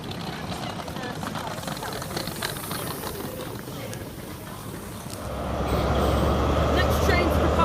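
A train led by power car 43032 running at Tiverton Parkway station on the Great Western Main Line, a steady diesel engine drone that grows louder and deeper partway through as it draws nearer.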